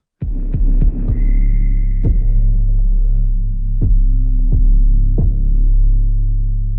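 Sci-fi sound effect from the Wildhunt sample pack: a loud, sustained low throbbing drone with a steady hum, punctuated by several sharp transient hits and a brief high whine near the start.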